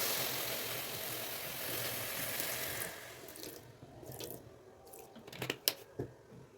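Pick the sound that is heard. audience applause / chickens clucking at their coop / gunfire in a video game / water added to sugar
water added to sugar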